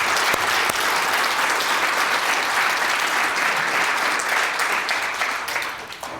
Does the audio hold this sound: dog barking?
no